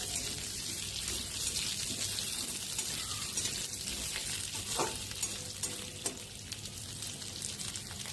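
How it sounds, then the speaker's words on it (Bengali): Potato pieces fry in hot oil tempered with cumin seeds and bay leaf, a steady close sizzle broken by occasional scraping strokes of a spatula stirring the pan. "এবার আলুটা এর মধ্যে দিয়ে একটু ভালো করে নাড়াচাড়া করছি"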